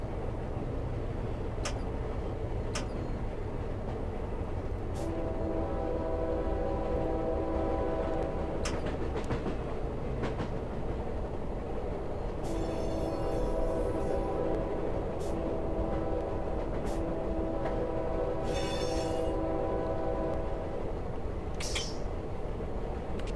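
A CSX freight train hauling empty coal cars rumbles steadily in the Run 8 train simulator, its horn sounding in several long, loud blasts over the continuous rolling drone, with short metallic squeals near the end.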